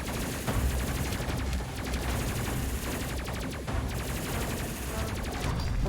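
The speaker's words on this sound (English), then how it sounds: "let's see what the missile launchers can get away with" Missile launchers firing in the space video game Space Crew, a dense, continuous barrage of rapid explosive bursts that stays loud and unbroken throughout, with no talking.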